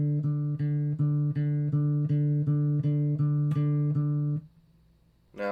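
A bass guitar repeats one low note, plucked by alternating index and middle fingers in an even, steady pulse of about a dozen close, round attacks, then stops and the string falls silent.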